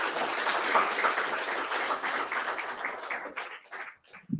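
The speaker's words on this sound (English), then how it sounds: "I think they all deserve a round of applause." Applause for the panelists at a book launch event, a fairly soft crowd clapping that holds steady, then tapers away toward the end with a brief sound just after.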